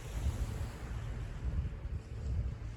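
A northerly wind blowing across a shingle beach at dusk, a steady low rumble of gusts buffeting the microphone, with the faint wash of surf beneath and no voices.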